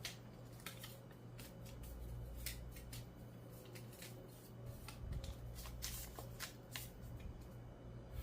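Paper being folded by hand for an origami star, close and fairly quiet, with a run of short crisp creases and rustles repeating at an uneven pace over a low steady hum, and no talking.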